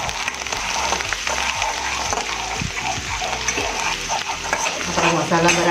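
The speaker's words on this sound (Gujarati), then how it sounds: "બરાબર હલાવી દઈશું." A spoon scrapes and stirs masala with coriander in a pan for dahi bhindi, giving repeated close scraping strokes over a steady sizzle of frying, growing louder near the end.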